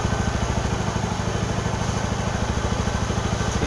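A warmed-up motorcycle engine that is giving off light white smoke idles steadily up close, with a low rhythmic chug and a constant mechanical hum and no speech.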